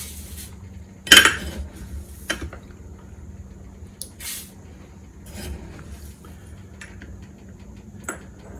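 A utensil scrapes and clinks against a pan while rice simmers, for Southern Hoppin' John. There is one sharp clatter, then a few lighter taps and scrapes over a faint, steady background hum.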